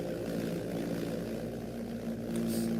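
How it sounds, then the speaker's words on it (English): A pulse jet engine of the V1 buzz bomb type runs continuously with a dense, steady buzzing drone, heard alone at moderate distance. "Hear that V1 buzz bomb scream?"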